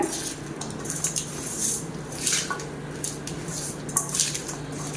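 Wet squishing and squelching of chicken being mixed with masala in a bowl, with occasional light clinks against the dish, steady and close.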